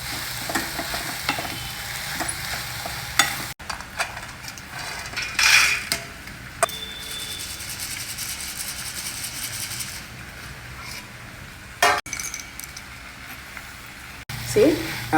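Steamed ivy gourd (kundru) and onions are stirred and tossed in a pan over a low flame, a soft frying hiss broken by scraping spatula strokes and a few sharp clanks against the pan.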